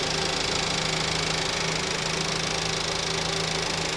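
A 2016 Volkswagen Passat R-Line with a 1.8 liter turbo engine idling with the hood open, a steady, even mechanical hum and hiss running loud and constant with no talk.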